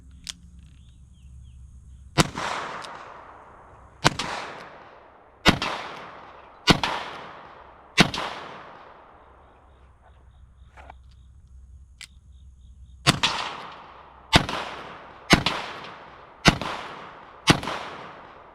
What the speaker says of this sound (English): So I'm gonna go ahead and shoot some more.